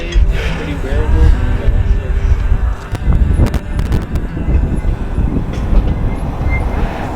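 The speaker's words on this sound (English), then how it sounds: "I hear the train a-coming." Train rumbling along rails on a windy day in the Las Vegas desert, a steady low roar with wind buffeting the microphone and people talking over it.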